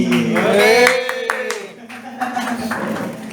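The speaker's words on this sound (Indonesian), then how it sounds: "Tepuk tangan dulu mas" An audience at a grassroots 4v4 football coaching workshop claps in a short, lively burst of overlapping hand claps, with someone talking over it.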